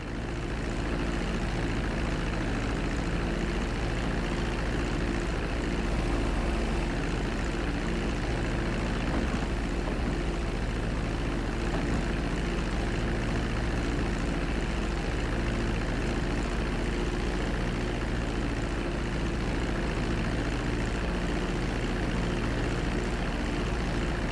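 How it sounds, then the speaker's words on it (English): A propeller airplane taxis along a runway in a flight video game, a steady low engine drone and propeller hum running continuously at even volume, with no pauses. "Now let's get the plane off the runway. Taxi over to the marked area and come to a complete stop."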